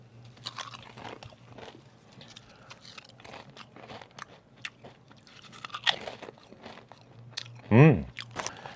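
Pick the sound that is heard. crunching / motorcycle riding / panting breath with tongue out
crunching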